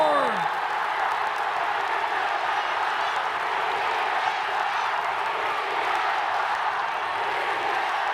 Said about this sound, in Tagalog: And listen to this crowd roar!